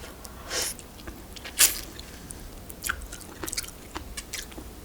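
Someone eats a Korean seafood pancake by hand, with soft close chewing and a few sharp crunchy bites, plus small sniffs and mouth sounds over a quiet room, with no talking.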